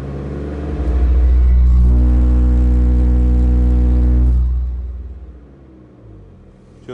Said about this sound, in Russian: Немного газую до 2000.